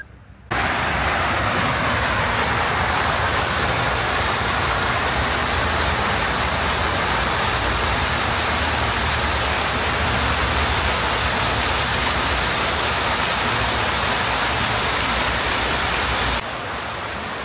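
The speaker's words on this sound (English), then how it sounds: "Right up and down the length of the park, waterfalls just like this." Waterfalls pour steadily in a city park in Tashkent, Uzbekistan, a dense, continuous broadband rush of falling water that stays loud and even throughout, with no voices on top.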